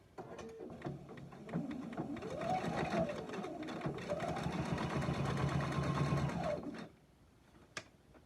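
A sewing machine stitching a quilted slipper, running in a steady whirring hum that rises and holds for about five seconds before stopping, close and moderately loud, with a faint click afterward.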